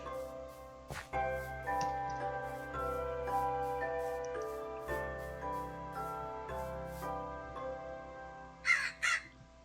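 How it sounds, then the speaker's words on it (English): Crows caw in Minecraft, two or three sharp harsh calls near the end, over a steady, gentle background music track with soft ticking. "Crow, go away."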